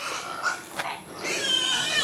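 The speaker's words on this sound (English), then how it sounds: "As you can hear, we got those pigs." Pigs on a hilltop homestead squeal in shrill, unhappy bursts, loud and fairly close, with a sharp cry near the middle and a sustained squeal toward the end.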